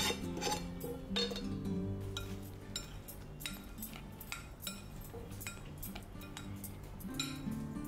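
A spoon stirs rice fritter batter with chopped green chillies and roasted cashews in a metal pot, giving steady clinking and scraping with sharp metallic knocks throughout, close and with no talk.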